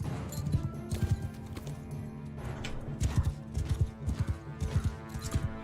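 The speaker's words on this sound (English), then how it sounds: "Horse archers!" Mounted horse archers gallop in Mount & Blade 2: Bannerlord, a steady drumming of hooves rolling on in repeated bursts over a dense battle din, loud and close, with no talk.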